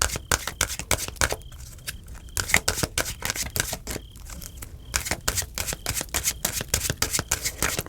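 Tarot cards shuffled for a reading, a fast run of crisp riffling clicks and flicks in quick bursts with brief pauses, close and fairly loud with no voices.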